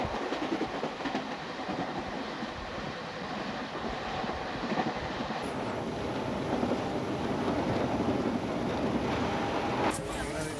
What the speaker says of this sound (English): This is the fastest train in India.